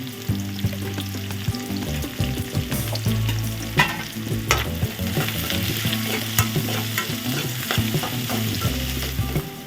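Onions with a little salt fry and sizzle in a pan, a steady crackling hiss with occasional stirring clatter, close and continuous, no voices.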